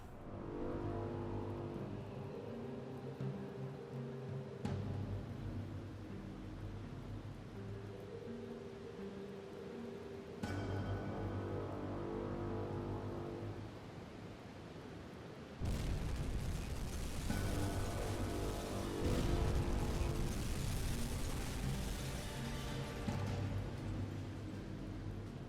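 Torpedo hits on a C3 cargo ship in the submarine game UBOAT: deep rumbling booms build in stages, ending in a heavy, sustained roaring blast over a constant engine drone.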